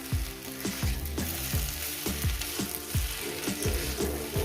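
Greens fry with mourala fish in a pan, a close, steady sizzle with rhythmic stirring pulses repeating evenly throughout.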